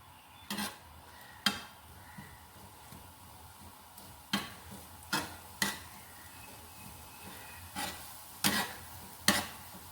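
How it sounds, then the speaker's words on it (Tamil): Onions sautéing in a wide pan for egg kothu parotta, a quiet low sizzle punctuated by about ten sharp spatula scrapes and taps spaced irregularly. "வெங்காயத்தை போட்டு முதல்ல வதக்கிக்கலாம்"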